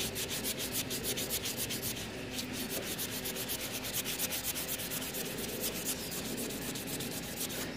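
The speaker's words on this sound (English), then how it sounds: "Wanted to show you guys cleaning this copper tubing that has the foam all over it." Fast rhythmic scrubbing as a scouring pad rubs foam off copper tubing from a refrigerator, a steady close abrasive rasp with no talking.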